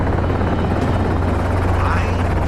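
A helicopter flies low and loud over a Florida hog hunt at dusk, its rotor thumping in a steady continuous drone with no letup.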